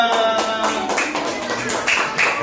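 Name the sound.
applause for group 2 in a classroom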